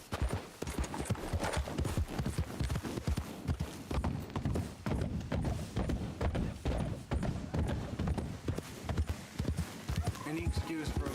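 Horse hooves galloping in Red Dead Redemption 2, a fast, steady clip-clop rhythm that carries on throughout with a voice speaking over it.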